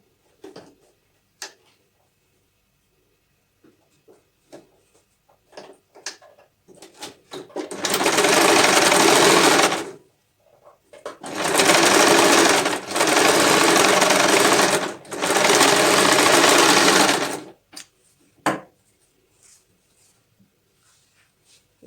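A sewing machine stitches patchwork quilt pieces in three loud, steady bursts of rapid mechanical whirring, close by, with short pauses between them and soft handling clicks before and after.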